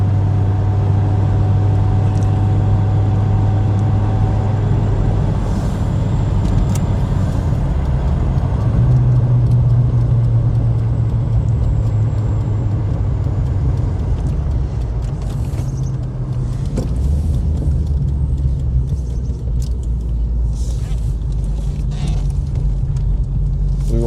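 An Audi Ur Quattro idles as a steady low drone heard from outside, its low engine tone shifting slightly partway through, with occasional faint background noises.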